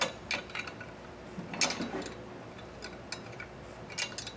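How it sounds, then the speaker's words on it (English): Wrench tightening a jam nut on a Blue Ox adjustable mud flap bolt during installation on a 2023 Thor Magnitude motorhome: a few faint, close metallic ticks and clicks over steady background noise. "I'll go ahead and tighten this jam nut down with a wrench here."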